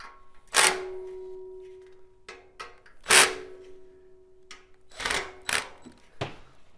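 Power drill with its clutch set to 7 driving screws while assembling an outdoor propane pyramid patio heater: several short bursts of whirring motor with sharp clicks and clatter between them, fairly close.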